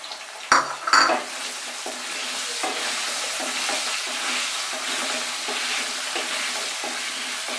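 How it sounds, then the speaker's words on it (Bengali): Cut potato pieces fry in hot oil in a pan, sizzling steadily, with a couple of sharp clanks of a utensil against the pan near the start and light stirring scrapes afterward. "এবার এই তেলেই আমি কেটে রাখা আলুগুলোকে সুন্দর করে ভেজে নেব।"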